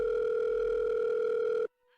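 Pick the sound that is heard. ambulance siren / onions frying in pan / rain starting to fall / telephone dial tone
telephone dial tone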